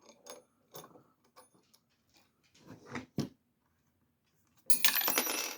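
A slippery supplied wrench slips and clatters on a mini cut-off chop saw: several sparse metallic taps and clinks, then a sudden loud rattling clatter at the end, with no talk.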